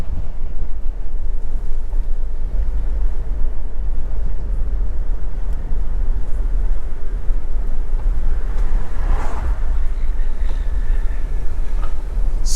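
Strong wind gusting across an outdoor roadside at Southfield, St Elizabeth, Jamaica, a constant loud low rumble of buffeting air on the microphone, with faint passing sounds partway through and no voices.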